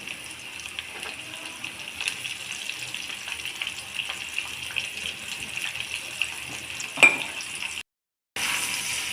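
Raw banana pieces being stirred and mixed with salt in a bowl, giving a steady, close, moist rustling and squelching texture with a sharp clack near the end before a brief silence.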